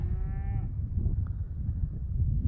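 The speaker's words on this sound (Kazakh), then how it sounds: "Мына үлкен бұқа осы жерде жүр." A single low, drawn-out moo from a large white-headed bull, about three years old, at the start, then a steady low outdoor rumble for the rest.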